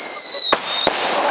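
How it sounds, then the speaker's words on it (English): Air bomb fireworks set off all at once at a Halloween display on Salt Spring Island give two sharp, loud bangs a fraction of a second apart over a hissing, crackling background. "All the air bombs at once."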